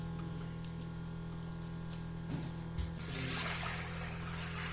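Water is added to a Sirona CAD/CAM milling unit, a soft trickle and splash rising over a steady machine hum partway through, close and fairly quiet.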